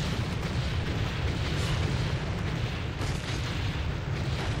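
Bomb explosions in the video game Warcraft III, a dense continuous rumbling barrage of booms with heavy low end, loud and sustained throughout with no voices.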